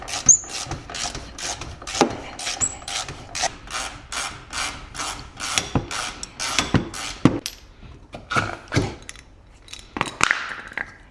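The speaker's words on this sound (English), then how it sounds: "let's grab our ratchet here." A hand ratchet working on a snowmobile track, giving rapid rhythmic clicking strokes up close, with metallic clinks and a few rattling tool sounds toward the end.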